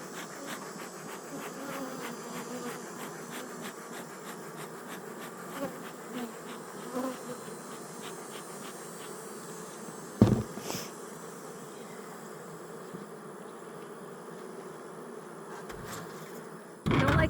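Honeybees at an open beehive hum in a dense, continuous drone close by, with small clicks and taps of hive work scattered throughout and a couple of sharp knocks near the end.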